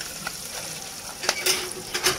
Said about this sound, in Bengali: দেখতে পাচ্ছেন খুব সুন্দরভাবে দারুণভাবে মাছগুলোকে মা ভেজে নিচ্ছে